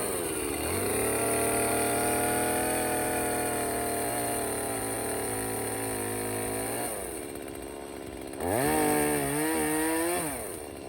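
A chainsaw cuts into a tree being felled, its engine droning loud and steady under load, then dropping back briefly before revving up sharply again for another pass.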